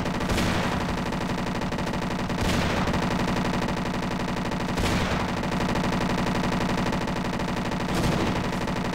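Sustained machine gun fire in Half-Life: Blue Shift, a loud, continuous stream of rapid shots with heavier accents recurring every couple of seconds and no talking over it.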